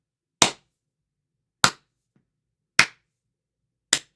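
A lone person clapping slowly in a near-empty room, four sharp, separate claps spaced about a second apart, each ringing briefly in the silence.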